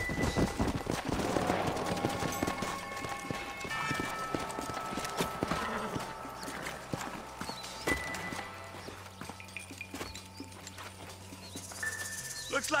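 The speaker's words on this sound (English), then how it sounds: "Let's hold up a minute and find a spot for our horses." Several horses' hooves clip-clop at a steady walking pace on the ground in the western video game Red Dead Redemption, fairly close, mixed with bursts of distant gunfire and a brief whinny.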